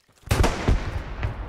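A few heavy gunshots boom in a World War II shooter, Hell Let Loose, three or four loud close blasts with long rolling echoes in quick succession.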